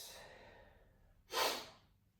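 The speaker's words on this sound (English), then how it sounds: "Breathing through the nose in and out." Slow breathing through the nose during a qi gong session, a long soft exhale fading away followed by a single louder, closer breath about halfway through, with no talking.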